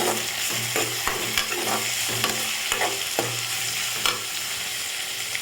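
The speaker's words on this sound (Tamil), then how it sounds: "இப்போ நம்ம தக்காளி சேர்த்துக்கலாம் சேர்த்து நல்லா வதக்கிக்கலாம்" Onions and tomatoes sautéing in a pan for a Tirunelveli-style elephant foot yam tamarind curry, a steady close sizzle broken by repeated scraping stirs of a spoon against the pan, with no voices.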